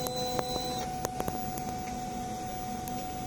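A DTF printer running a nozzle check, giving a steady mechanical hum with a few sharp clicks and ticks from the print head carriage, fairly quiet and without talk.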